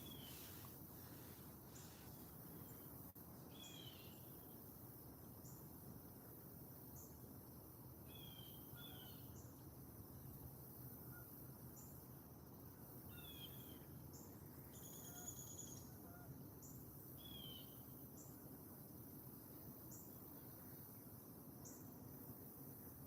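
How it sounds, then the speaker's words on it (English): Crickets trill steadily outdoors at a fishing spot while birds chirp and call intermittently at a distance, all faint and continuous with no talking. "Are you guys able to like hear the crickets and birds and stuff?"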